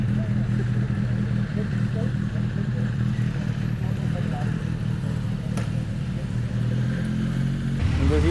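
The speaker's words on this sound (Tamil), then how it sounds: "இந்த மாதிரி தான் நம்ம சவுண்டு இருக்க போகுது நம்ம வண்டி." A Kawasaki Z900 motorcycle fitted with a slip-on exhaust idles and revs with a steady, rumbling engine note, under talk from the rider throughout.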